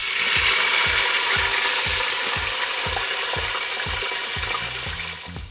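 Fries sizzle loudly on a hot griddle alongside smash burgers made from ground brisket trimmings, a steady close hiss broken by regular low knocks roughly every half second throughout.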